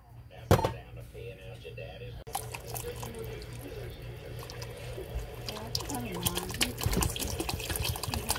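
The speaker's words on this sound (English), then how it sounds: "I'm going to get a little more spring water" Spring water pours steadily from a bottle into a container at close range, a continuous splashing trickle running for several seconds with faint clinks and kitchen noises around it.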